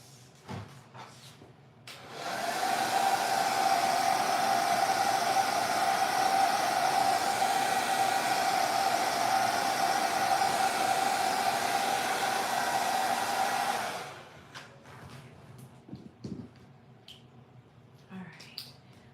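A hair dryer runs steadily for about twelve seconds to dry wet paint, a loud, even whirring blast that starts and stops abruptly, with quiet handling noises before and after.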